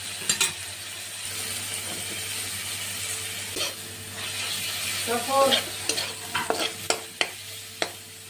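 Shrimp curry with ginger garlic paste sizzles steadily in a pan while a spatula stirs it, making soft scraping and several sharp taps against the pan toward the end, up close with no talking.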